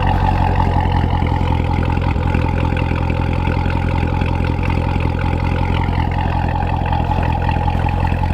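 A 1964 C2 Corvette's engine runs steadily on a winter day, a loud, close, even rumble with a constant low throb and no talk over it.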